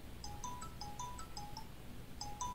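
Notification chime from a Redmi Watch 3 Active smartwatch, played as the notification volume is adjusted: a few short, bright two-tone electronic beeps repeating in a quick pattern over faint background hiss, with no talking.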